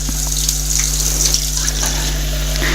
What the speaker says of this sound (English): pour hot water over it